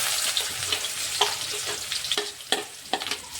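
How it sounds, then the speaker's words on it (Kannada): Onions fry in hot oil with spluttering mustard seeds for a cabbage palya, a faint steady sizzle broken by sharp pops and spatula knocks at irregular intervals. "ಈ ಈರುಳ್ಳಿ ಕಲರ್ ಚೇಂಜ್ ಆಗೋ ತನಕ ನಾ ಇದು ಫ್ರೈ ಮಾಡ್ಕೊತೀನಿ ನೋಡಿರಿ"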